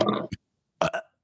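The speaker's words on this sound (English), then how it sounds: "Oh, I have all the burps. I can do it on cue." A man burps on cue, one short burp followed after a pause by a louder double burp, close and alone in an otherwise quiet room.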